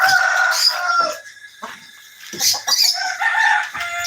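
Chickens and other birds on a small farm cluck and crow loudly at close range, with overlapping calls in rapid bursts and short quiet gaps between them.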